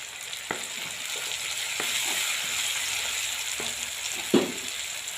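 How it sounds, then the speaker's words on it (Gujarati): Tomatoes sizzle and fry in a pan for a cowpea curry, a steady hiss with a few clacks of a spoon stirring, close by and without talk. "ટામેટા આપણા શેકાવા આવી ગયા છે"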